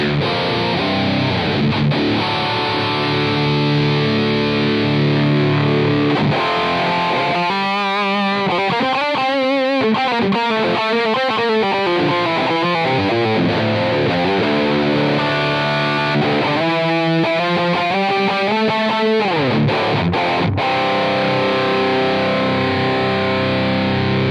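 Heavily distorted electric guitar through a high-gain pedal in AmpliTube 5, with pronounced mids that give a cocked-wah quality; loud chugging riffs alternate with wavering sustained lead notes and bends, unaccompanied by speech.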